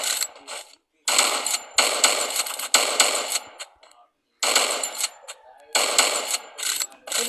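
Bursts of rapid automatic gunfire from a new gun in the Free Fire video game, several sharp rattling volleys separated by short silent gaps, fairly close and clear.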